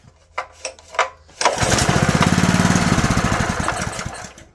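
A Honda GX160 small engine from a junkyard catches after a few pull-start tugs, then runs close and loud with a fast, steady chugging for a few seconds before it starts to fade.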